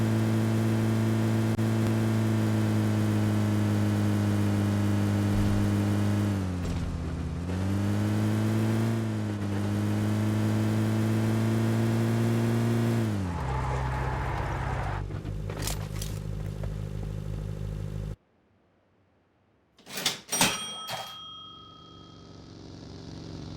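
Vehicle in PUBG Mobile driving across the Spawn Island area, a loud steady engine drone with rising and falling pitch as it accelerates, cutting off near the end into a few sharp game effect tones.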